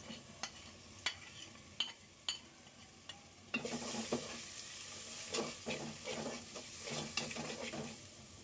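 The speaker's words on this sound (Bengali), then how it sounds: "এখন সবগুলা মশলা দিয়ে দিব।" Ground spices going into a pan of fried onions for chicken curry, starting with a few distinct spatula taps and then breaking into a louder, steady sizzle stirred with rhythmic scrapes.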